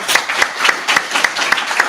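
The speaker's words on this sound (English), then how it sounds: "can you give them a round of applause?" A mayoral forum audience applauds city council members and candidates, a loud, close burst of many hands clapping with a steady pulse running through two seconds.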